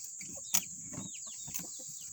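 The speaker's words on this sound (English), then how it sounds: "Let you enjoy the chicken eating their appetizers." Backyard chickens cluck softly and intermittently while eating, with a few sharper squawks and pecking sounds close by, over a constant high-pitched background hum.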